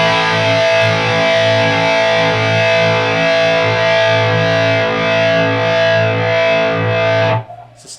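Electric guitar played through a GUP Tech DCD dual channel distortion pedal at high gain, a loud sustained distorted chord ringing for several seconds before cutting off sharply.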